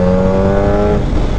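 A Suzuki Hayabusa motorcycle accelerates with a loud, steady engine note heard up close, holding a strong tone before it thins out toward the end of the short burst.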